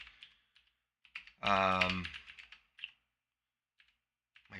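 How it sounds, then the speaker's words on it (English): Typing on a computer keyboard during a morning amateur radio stream, soft clicks scattered through the clip alongside a brief burst of nearby speech. "I'm just typing something on the stream."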